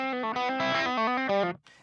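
Electric guitar played through a Plumes overdrive pedal at low gain gives a loud, mildly gritty sustained chord with a couple of re-struck changes, then cuts off abruptly, alone with no talking.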